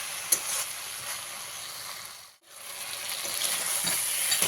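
Vegetables and tomato fry in a pan with a steady moderate sizzle and light stirring, dipping to near silence for a moment midway before the sizzle returns.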